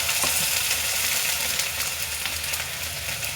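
Chopped onion, garlic and ginger frying in a pan, a steady dense sizzle that stays fairly loud and even throughout, with faint stirring scrapes and no talk.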